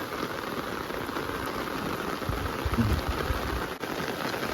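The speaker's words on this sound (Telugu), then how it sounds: "క్యాంప్ అయితే ఇంత వాన పడుతుందో వానకు కూడా తట్టుకునింది" Heavy overnight rain falls on a campsite at Mukkonda, producing a steady, dense hiss of drops pattering on surfaces with some louder low thuds, continuous and fairly close, with no voices.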